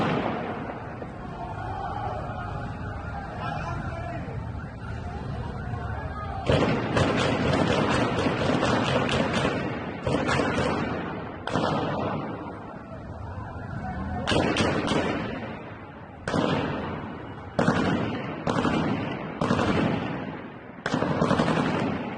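Rapid bursts of gunfire recorded in Iran, a dense steady crackle of shots at first, then repeated loud volleys separated by brief pauses, some distance away with an echoing outdoor quality.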